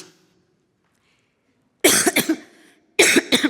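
Two loud, close coughing bursts break an otherwise quiet pause, the first a cluster of rough hacks and the second a shorter fit about a second later, from someone speaking Spanish in a sermon.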